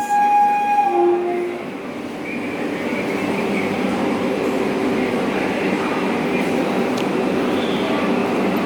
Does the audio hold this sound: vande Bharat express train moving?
yes